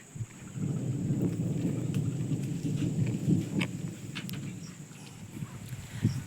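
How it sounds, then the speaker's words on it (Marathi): Steady rain with low rumbling thunder rolling underneath on a farm, a continuous wash of sound with occasional sharper drops and swells in loudness. "पाऊस रेग्युलर चालू चालू झाला"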